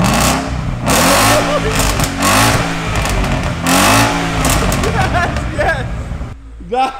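A Ford Mustang fitted with a new loud aftermarket exhaust revs repeatedly, several rising blips of a deep raspy engine close by, with people talking between and over the revs.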